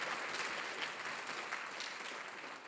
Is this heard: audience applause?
yes